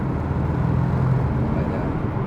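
A Porsche Cayman 718 GTS engine drones steadily and loud under acceleration, a continuous low rumble with no breaks across the short stretch.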